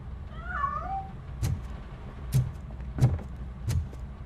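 A short cat meow in a video game near the start, followed by four soft thumping knocks spaced roughly evenly over a quiet background.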